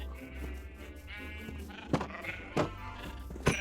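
Minecraft sheep bleat in the video game: three short, nasal bleats come at irregular intervals over a low, steady in-game background hum.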